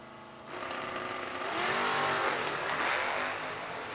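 Drag racing cars, a Mustang and a Pontiac Firebird, at a New Year Nationals event: a loud engine roar swells suddenly and climbs in a hard rev, staying strong and near before easing slightly.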